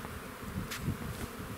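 Honey bees fly around a hive, making a steady, close buzzing hum with a few brief, louder passes as individual bees move by.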